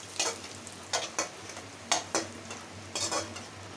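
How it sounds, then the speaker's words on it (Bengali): Eggs frying in oil in a pan for an egg curry, a faint sizzle broken by several distinct scraping stirs of a spatula against the pan, spaced irregularly and close up, with no talking. "ডিমগুলো আমার ভাজা ভাজা হয়ে গেল"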